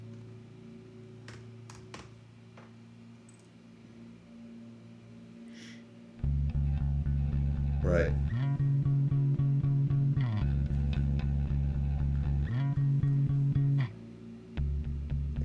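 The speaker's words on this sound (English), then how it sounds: "The bass guitar part is interesting in that it sounds like this." A muted, palm-damped bass guitar line sits low in a full song mix during the verse of a demo track, thumping steadily at moderate level under other instruments, with a brief spoken word early on.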